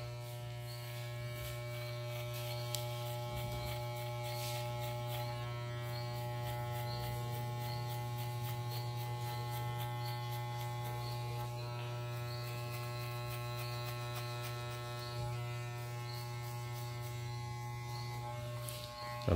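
An electric hair clipper fitted with a half guard comb cuts the top of a client's hair during a fade haircut, giving off a steady, unbroken buzz and hum close by with no talking.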